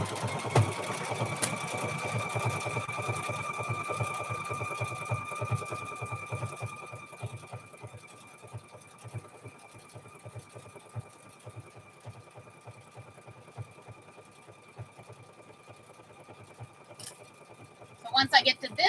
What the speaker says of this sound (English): I'm going to sew down this corner here